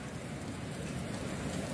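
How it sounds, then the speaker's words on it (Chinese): Heavy rain pours down in the mountains during a sudden downpour, a dense, steady hiss of water close by with no distinct drops standing out and no voices. "你看这雨还大呢"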